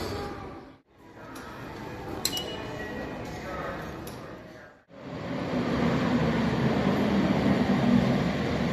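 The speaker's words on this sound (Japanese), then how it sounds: "地下鉄に乗って仙台駅戻ります。" Steady rumbling roar of a Sendai subway car in motion heading to Sendai Station, with brief metallic clinks and a short dip in noise, then louder continuous rolling.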